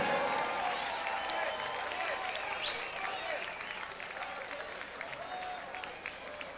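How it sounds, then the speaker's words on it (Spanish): Concert audience at Discoteca Bacchus applauding a singer in 1996: a steady wash of distant clapping and crowd noise that slowly fades, with a voice and some cheering heard faintly through it. "Fuerte el aplauso para él."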